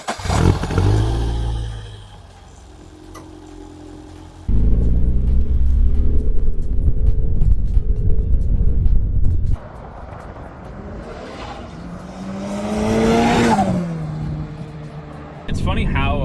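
A turbocharged Toyota GT86/Subaru BRZ engine rumbles and revs through gear changes, loud and close inside the cabin, with a voice talking over it at times.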